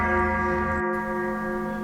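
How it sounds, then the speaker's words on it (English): A church bell rings with a steady, sustained tone that hangs in the air and hums without pause, fairly loud and alone, with no voices. "the sound of a church bell ringing"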